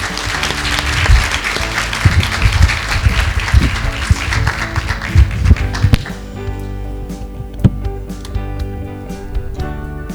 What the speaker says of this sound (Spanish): les damos un gran aplauso a nuestras expositoras y expositores del día de hoy